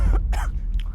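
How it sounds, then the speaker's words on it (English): A single short cough comes after eating spicy monk fried rice, close and fairly loud, with a second rough throat sound following and no speech. "I'm coughing from spice."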